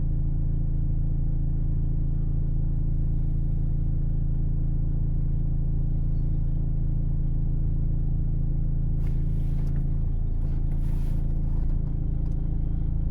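A car pulls away from a stop line in first gear on a driving-test route in Korostén, Ukraine, the engine a steady loud low rumble inside the cabin with a slight rise in revs.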